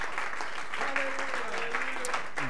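Church congregation applauding at a revival service, sustained close clapping from many hands with a voice speaking over the ovation.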